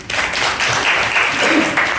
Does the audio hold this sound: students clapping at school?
yes